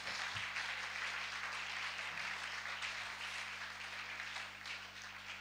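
A church congregation applauding during worship, a faint, steady wash of clapping in the background that tapers slightly toward the end.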